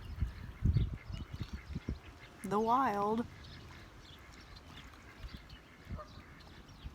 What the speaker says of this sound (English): I'm trying to show you guys a diving duck, not a mating duck.